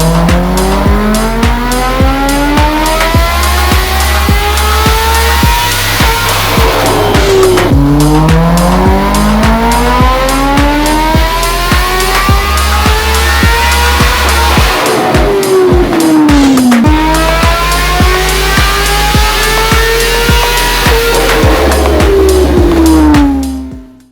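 A de-restricted 2025 Kawasaki ZX-10RR superbike engine screams through repeated full-throttle pulls on a dyno, rising sweeps of high revs with brief drops between runs, loud and close, with no talk.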